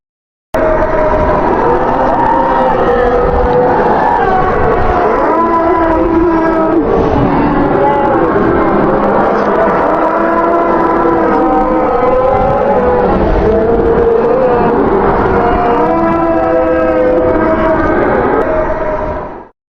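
A dense, continuous wall of wailing, overlapping cries and moaning tones, loud and unbroken for the whole stretch, with no speech.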